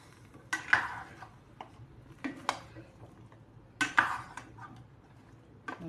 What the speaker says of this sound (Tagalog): Takpan natin